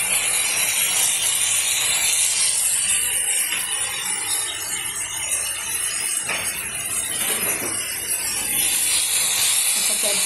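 A mixed vegetable curry sizzles steadily in a pan, a continuous loud hiss with crackling throughout.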